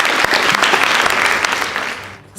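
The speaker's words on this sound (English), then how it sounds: "Please give them a round of applause." An audience at a national high school debate knockout claps steadily in a sustained burst of applause that fades out near the end.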